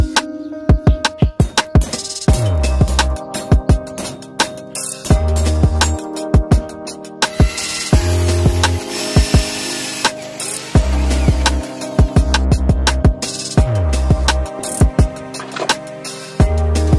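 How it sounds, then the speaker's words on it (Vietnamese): A drill bores holes in a steel tool box for rivets. Short motor bursts alternate with sharp metallic clicks and clanks in an irregular, stop-start rhythm, loud and close. "Mình sẽ khoan thêm lỗ để bấm rivet."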